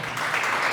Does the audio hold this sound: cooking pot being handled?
no